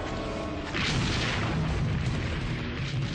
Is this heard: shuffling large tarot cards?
no